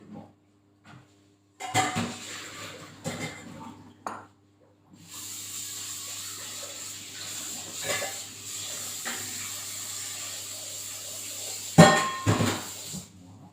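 Pasta cooked in a pot and drained through a small colander in a kitchen: a clatter of cookware, then a sustained hissing pour of water lasting several seconds, ending in a few sharp metallic knocks.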